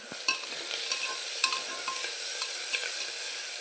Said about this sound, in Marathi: हे कांदा थोडासा आपल्याला भाजून घ्यायचा आहे